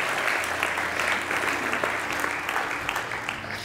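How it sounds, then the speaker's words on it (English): A lecture audience breaks into a sustained round of even, dense clapping, moderately loud and unbroken by any voices. "I think that deserves a round of applause and appreciation."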